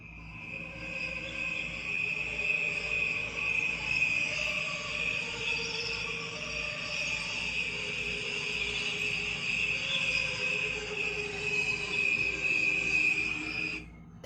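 A slowed-down recording of crickets chirping makes a steady, droning, choral tone that swells and pulses evenly throughout and stays moderately loud with no talk.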